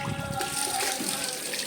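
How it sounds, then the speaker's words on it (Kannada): Water flows from the mouth of a Nandi statue at a temple, making a steady trickling splash that is close and continuous, with faint background voices. "ಆ ನಂದಿ ಬಾಯಲ್ಲಿ ಬರೋ ನೀರು ಕಾಶಿಯಿಂದ ಬರುತ್ತಂತೆ."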